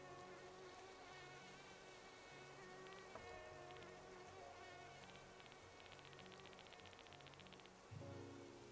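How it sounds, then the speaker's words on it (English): Mosquito buzzing in the video game Animal Crossing: New Horizons at night, a thin high whine running steadily over looping game music and ambient night sounds, with no talk. "I hear the mosquito again. We cannot have a night without mosquitoes."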